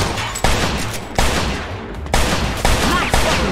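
Loud gunfire in the Mafia II video game, with sharp, separate shots cracking out at irregular intervals over a dense, noisy background of continuous shooting.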